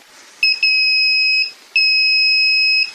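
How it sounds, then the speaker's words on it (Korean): A digital multimeter in continuity mode, testing a xenon lamp ballast, emits a loud, steady two-tone electronic beep in two long sustained bursts separated by a short gap, close and with no talk. "이거를 노말을 하이다 맞춰놓고 다시 측정을 하면 삑삑 소리 납니다."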